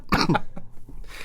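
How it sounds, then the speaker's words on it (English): A single short cough, close and fairly loud, followed by a brief quieter throat sound in a quiet indoor setting. "I'm having trouble suppressing my cough"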